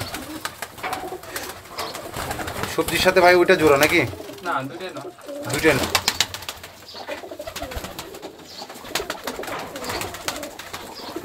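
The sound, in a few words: pigeons cooing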